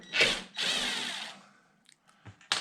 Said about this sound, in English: So these are just the little screws I'm taking out.